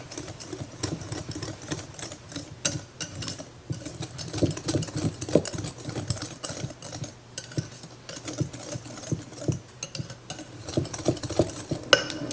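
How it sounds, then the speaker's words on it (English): A whisk clatters against a bowl while dry ingredients, including salt, are mixed together, giving a steady, close, scratchy rhythm of quick metallic taps and scrapes that carries on for several seconds. "Whisk all this together."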